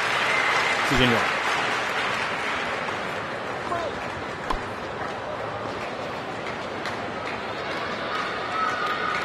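A crowd in the tennis video game Tennis On-Court applauds and murmurs steadily at a distance, while someone talks over it and a few sharp knocks cut in.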